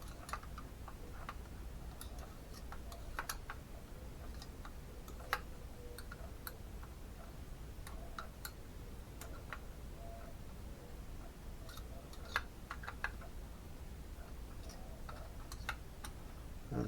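Ratchet tightening the cooling head bolts on a Dynamite 19 model engine, quiet irregular clicking ticks scattered across a faint background, close up and without talk.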